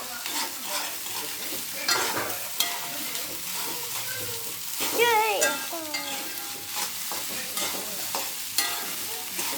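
A large batch of rice is stir-fried in a pan, with continuous sizzling and a spatula repeatedly scraping and tossing it through the whole stretch, close and fairly loud.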